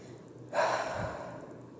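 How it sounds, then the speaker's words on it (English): A man's slow, drawn-out exhale of breath, close and soft, beginning abruptly and fading gradually over about a second with no speech. "He exhales slowly, thinking."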